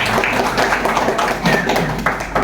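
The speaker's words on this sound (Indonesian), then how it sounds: "Masya Allah, tepuk tangan." A school class claps together, a brief burst of close, uneven hand claps that rise and fall over a couple of seconds, with a little voice sound mixed in.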